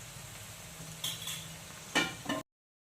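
Onions frying in a pan for Andhra-style fish pulusu: a soft, steady sizzle with a few brief stirring scrapes and clinks of a utensil against the pan, close and quiet, ending abruptly.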